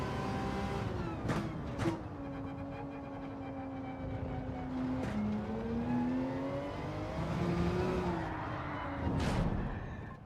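Race car engine in a racing video game, a steady droning whine rising and falling in pitch as the car accelerates and brakes, with a few sharp bursts from shifts or bumps, loud and continuous throughout.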